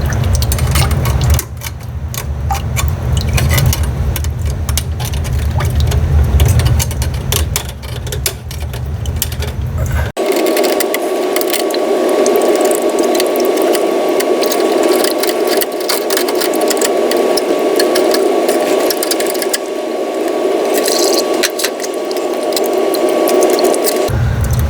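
A knife blade scrapes and shaves the cut end of a copper water pipe to deburr it, giving a close, continuous grating rasp that shifts tone partway through as the stroke and grip change.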